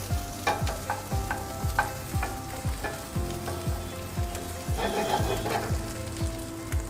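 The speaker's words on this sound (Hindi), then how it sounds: "इसमें थोड़ा सैलरी का तड़का लगाएंगे" Celery and garlic sautéing in olive oil give off a close, steady sizzle and crackle, broken by repeated scraping strokes of a stirring spoon; no one speaks.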